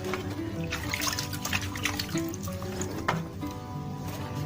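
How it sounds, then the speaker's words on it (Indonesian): Water is poured over a motorcycle disc brake caliper, giving a close, continuous splashing trickle with faint tonal background sound. "Kita siram dulu dengan air."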